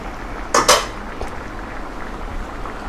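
A cooking pot lid lifted off with two quick metallic clanks close by, followed by a faint clink and a soft background hum.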